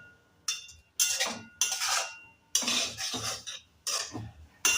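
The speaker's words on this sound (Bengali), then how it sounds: "ভালো করে নাড়তে হবে যাতে পোড়া না লেগে যায়" A utensil stirs grated coconut frying in ghee in a pan, giving loud, close scraping strokes in short irregular bursts separated by brief pauses.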